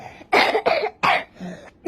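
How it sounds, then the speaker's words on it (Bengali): A baby coughs in bursts, three or four short harsh coughs close up in a quiet room, with a brief pause between them and no talking. "কাশি হয়েছে"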